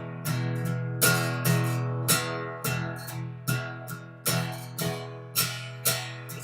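Electric guitar sounding a steady, even run of picked notes, three evenly spaced attacks per two beats repeating across the passage, each note ringing out and decaying, played alone without talk.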